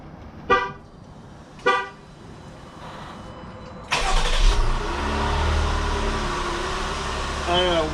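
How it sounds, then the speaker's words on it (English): A 2019 Jeep Grand Cherokee Limited X is cold-started from outside: two short horn toots sound first, then the engine cranks and fires with a loud flare before dropping into a steady, moderately loud idle. "you want to do our cold start up?"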